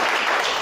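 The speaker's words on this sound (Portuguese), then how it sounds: "Quem crê pode aplaudir." A church audience claps together, a brief dense burst of applause.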